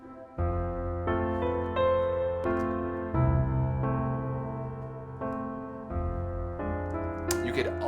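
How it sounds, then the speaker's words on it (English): In a film score for IT, low piano notes are doubled by low string pizzicatos. The result is a dark, resonant line of plucked bass notes that changes pitch every second or so, ending with a brief brighter flourish. "doubling essentially the low piano into some low string pizzicatos"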